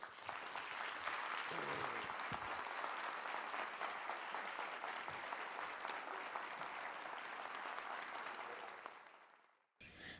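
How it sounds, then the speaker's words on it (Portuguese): Sustained applause from an audience at a literary talk and book launch in Brasília, a dense, even wash of clapping for about nine seconds that fades out abruptly at the end. "Vamos recebê-lo com uma salva de palmas."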